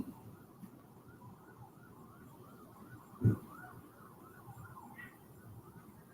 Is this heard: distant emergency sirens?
yes